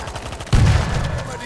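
Gunfire in the World War Z video game: a single loud, sharp shot bursts out midway through, with a brief rumbling tail.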